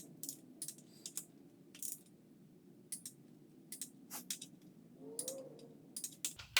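Torque wrench clicking in sharp, quick bursts, some doubled, while tightening bolts to 15 foot-pounds on a GM LS 6.0 short block in a sequence that jumps to the outer bolts, over a low steady hum.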